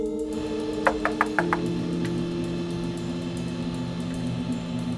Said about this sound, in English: All of a sudden you hear knocking on the door.